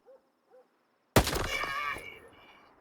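A single sharp gunshot from the Kharod rifle in STALKER 2, fired in single-shot mode, bursting loud and close with a ringing tail that fades over a second and a half, after two faint soft blips.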